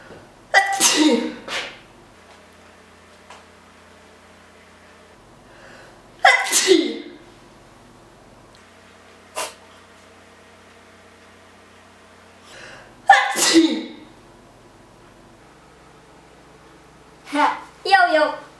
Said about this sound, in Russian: каждый человек встречается с таким физиологическим явлением, как чих